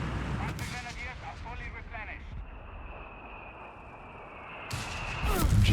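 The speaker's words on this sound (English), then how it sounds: "MG barraging." Heavy gunfire and artillery-like blasts from a Company of Heroes 3 2v2 battle, a machine gun barraging amid dense rumbling combat noise, with a commentator talking over the first half before a louder burst near the end.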